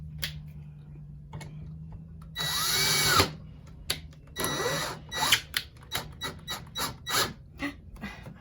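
A power drill drives screws back in, nearby, with two longer whirring runs followed by a string of short bursts and ratcheting clicks in an otherwise quiet room.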